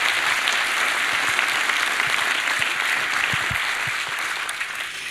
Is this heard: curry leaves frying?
no